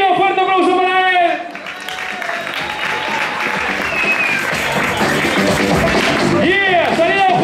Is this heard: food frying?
no